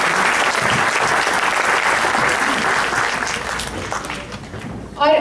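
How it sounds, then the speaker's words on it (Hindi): Audience applause greets a poet at a Hindi kavi sammelan, a dense steady clapping that fills the hall, gradually thinning toward the end before a voice begins. "प्लीज इनका स्वागत करें जोरदार तालियों से।"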